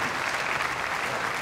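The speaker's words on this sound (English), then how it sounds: "the US fans finally have something to applaud" US fans applaud at a single-lane ten-pin bowling match in the Weber Cup, a steady burst of crowd clapping filling the hall.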